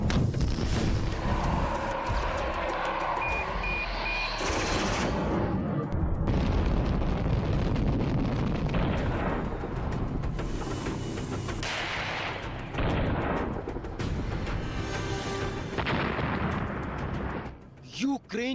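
Russian missile strikes hitting ground in Ukraine make loud, booming explosions and heavy rumbling blasts that come one after another, mixed with crackling debris and noise from the scene.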